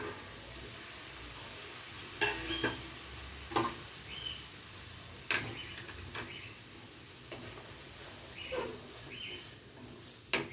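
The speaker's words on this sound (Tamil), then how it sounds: "நான் ஸ்லோ ஃப்ளேம் தான் வச்சுருக்கேன். லைட்டாக அப்படியே நல்லா வதக்கி விடுவோம்." Chopped green beans sautéing in a pan over a slow flame: a soft, constant sizzle broken by intermittent spatula taps and scrapes at irregular intervals.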